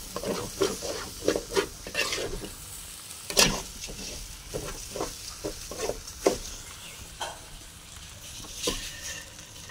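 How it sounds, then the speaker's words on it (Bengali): Rice for pulao being stir-fried in a pan, with rhythmic scraping strokes of a spoon over a soft sizzle, close and repeated roughly every half second or so, one sharper clatter near the start. "চাল ভাজা শেষ,"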